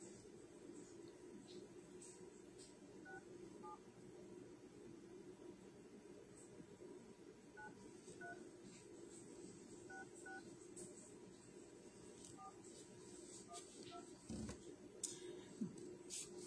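Touch-tone telephone dialing, a series of short beeping key tones spread across the span, heard faint over steady background hiss and low hum.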